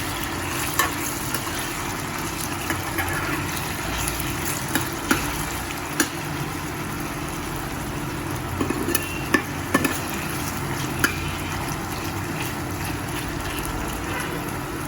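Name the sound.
potatoes frying with cumin and green chili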